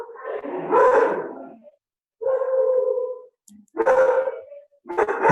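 A dog barks close to the microphone in loud, separate bursts with short gaps between them, some sharp and some drawn out into a whining tone, with no speech around it.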